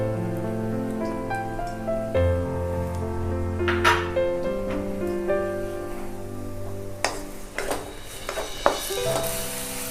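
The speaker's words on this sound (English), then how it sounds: "we want to sweat these onions properly, but we don't want to turn them into golden brown." Onions sweat in a generous pour of olive oil in a pan, a soft, steady sizzle with a few light clinks of utensils against the pan over it and no talking.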